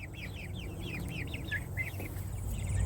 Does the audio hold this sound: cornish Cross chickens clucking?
yes